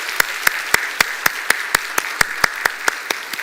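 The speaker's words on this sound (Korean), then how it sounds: "다 같이 한번 박수로 우리 격려하도록 합시다" A church congregation claps together in a steady, even rhythm of about four sharp claps per second, filling a sanctuary during a Sunday morning service with no talking.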